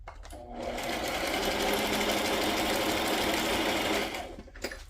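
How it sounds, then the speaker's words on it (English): A sewing machine runs steadily for about four seconds, a dense mechanical whir with fast stitching rhythm, starting and stopping abruptly, close by. "I am so glad I'm back in business with my sewing machine"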